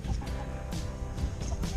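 Cochin chickens cluck steadily nearby, several birds overlapping in busy, uneven bursts against a constant farmyard background.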